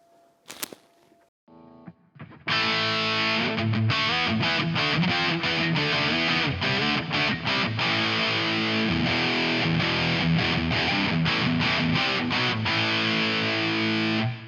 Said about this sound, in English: Distortion and feedback, I like this one.